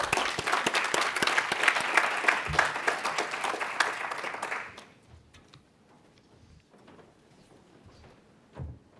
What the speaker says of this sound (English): please join me in applauding our panel.